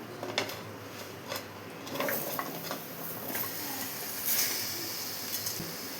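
Vegetable pieces tipped into a clay pot, with scattered soft clatters and taps over a low sizzling hiss, close and fairly quiet.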